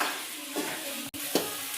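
Dried fish frying on a flat iron tawa while being stirred: a steady close sizzle broken by two short scraping strokes.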